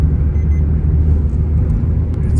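Interior road rumble of a car speeding along a cement stretch of the Mumbai–Goa highway, a loud, steady low-frequency drone with no breaks.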